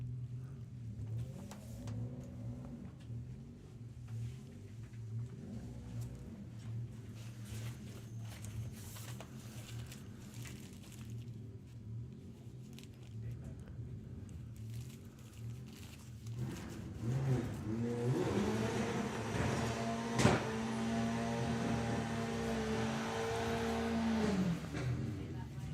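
Volkswagen drag cars, including a Passat and a Golf, idle with a low, steady drone at the Sportsman Nationals drag racing event, then swell into louder revving about two-thirds through, with commentary running over them.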